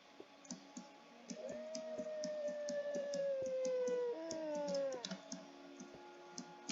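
Wolves in a video game let out a long, rising then falling howl, joined near the end by a second bending howl, over sparse game clicks and a faint background hum.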